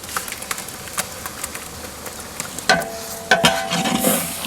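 Chili powder goes into hot oil with ginger paste for biryani, giving a close, crackly sizzle with quick spoon clinks and scrapes that grow louder toward the end.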